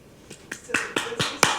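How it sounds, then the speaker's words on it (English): Someone claps in about six sharp, separate claps spaced unevenly over a second and a half, close and moderately loud, with no talking. "Oh, he's clapping."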